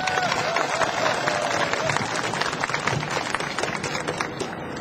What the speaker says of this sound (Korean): 자, 큰 박수 맞아주시죠.